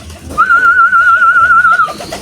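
A pigeon gives a single sustained, whistling coo that holds steady for over a second, close and clear, with faint soft background noise and no talking.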